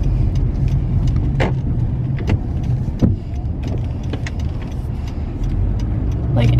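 A car drives in busy traffic, with a loud steady interior road rumble and engine drone plus scattered clicks and knocks from inside the vehicle.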